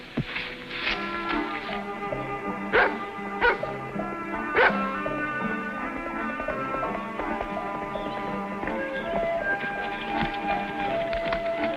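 A dog gives a few sharp barks and yips early on, then settles into quieter whimpering amid background music.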